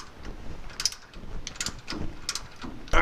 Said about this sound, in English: Put your 18mm ratchet.